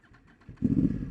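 A motorcycle engine cranks with a few quiet clattering pulses, then catches and fires into a louder low rumbling idle.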